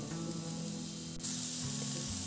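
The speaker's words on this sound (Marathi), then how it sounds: "आता पॅनमध्ये थोडंसं तेल घालून घेऊ, त्यामध्ये आपल्याला हा कांदा जो आहे तो परतून घ्यायचा आहे." Chopped onion sautéing in a little oil in a pan for methi matar malai gives a soft, steady hiss that jumps louder about halfway through, with faint music underneath.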